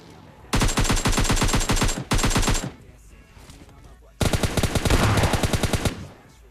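Rapid automatic gunfire in a video game where an enemy fires a shotgun, loud and close, coming in three long bursts of fast repeated shots separated by brief quieter gaps.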